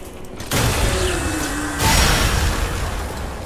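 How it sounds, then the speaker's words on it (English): An explosion in the video game Lies of P, a sudden loud broadband blast that sets in abruptly and holds as a dense rumbling roar, swelling again partway through. "That explosion is so satisfying"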